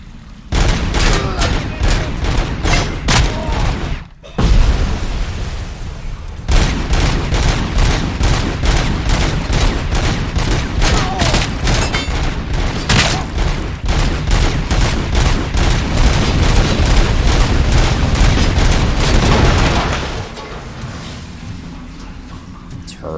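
Turrets in Robocop Rogue City fire loud, dense, rapid bursts that continue almost unbroken for about twenty seconds. There is a brief lull near the start, and the barrage cuts off toward the end, leaving quieter game ambience.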